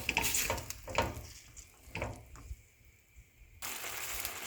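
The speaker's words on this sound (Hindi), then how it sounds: "मिक्स करें और अब इसको हाई फ्लेम पे 2-3 मिनट के लिए पकाना है।" Boiled chickpeas stirred in a hot pan over high flame for samosa chaat, with scraping stir strokes and a soft sizzle, fairly quiet and close, with no talk.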